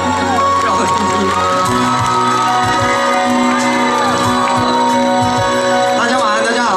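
Dense crowd noise at an outdoor concert during a guava festival, with cheering, whoops and shouting voices filling the space over music, loud and continuous.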